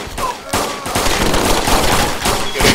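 Bursts of rapid automatic gunfire in the DayZ video game, loud and near, a dense continuous rattle of shots with brief gaps between volleys.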